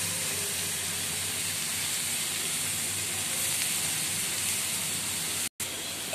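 Ridge gourd and potato pieces fry together in a pan with oil, giving a steady, dense hiss of sizzling that stays even and close throughout, with a brief cut near the end.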